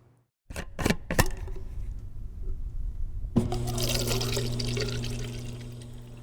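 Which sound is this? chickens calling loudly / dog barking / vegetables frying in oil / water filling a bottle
water filling a bottle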